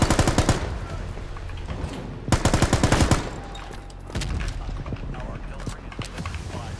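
Rapid, loud bursts of Beryl assault rifle fire in the video game World War 3, clustered in several rattling volleys with quieter gaps between them.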